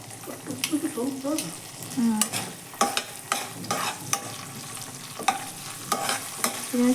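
Green chillies frying in a pan for a tempering: a close, crackling sizzle broken by repeated scraping stirs and sharp utensil knocks at an uneven rhythm.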